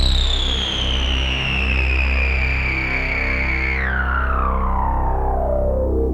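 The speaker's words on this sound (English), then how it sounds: "So here's the drive, then some feedback, just for whack the resonance up." Synthesizer with drive, feedback and resonance pushed high: a fat, distorted sustained tone with a bright resonant sweep that drops in pitch partway through, loud and continuous with no talking.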